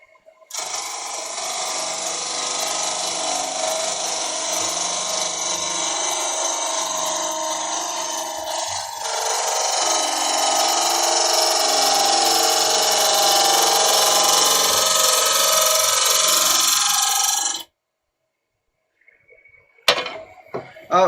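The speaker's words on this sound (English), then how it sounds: "I'm going to quickly use a bowl gouge to rough this off." A bowl gouge roughing a wooden bowl blank on a spinning lathe gives a steady, loud, harsh scraping hiss that runs unbroken for about seventeen seconds. It grows slightly louder midway, then stops abruptly and leaves a few faint knocks.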